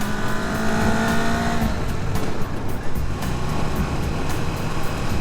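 Kawasaki sport bike ridden on a demo day along a curvy road with traffic, its engine droning loudly and steadily with an early rising whine, then blending into continuous wind and road roar throughout.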